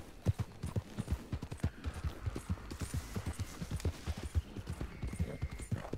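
A horse gallops in Red Dead Redemption, its hoofbeats a fast, steady clip-clop rhythm that carries through the whole stretch at moderate volume, with faint background wind and ambience.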